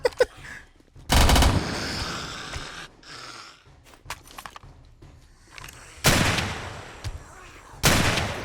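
Gunfire in the video game 7 Days to Die comes as several loud, abrupt bursts separated by quieter gaps with scattered smaller clicks and impacts; no voices.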